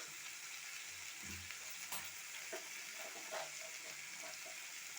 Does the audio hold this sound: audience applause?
no